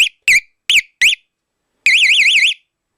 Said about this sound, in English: I do need to mount the screamer in such a way that, well, it's plenty loud